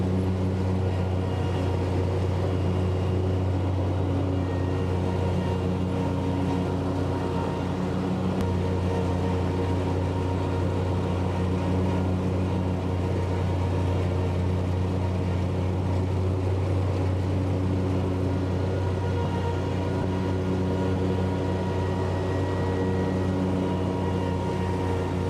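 Engine of a high-end John Deere zero-turn lawn mower running steadily, a loud continuous low drone with stable tone throughout, close by with no talk.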